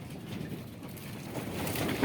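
Steady, rushing wind buffets the microphone outdoors by a garden greenhouse in February, a broad roar that swells slightly louder toward the end, with no voices.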